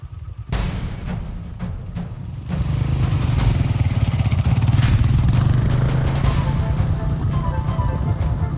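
Motorcycles climbing a technical dirt hill in Mongolia, a steady loud engine drone that swells as the riders power up the slope, with clattering and scraping from rocks and loose ground.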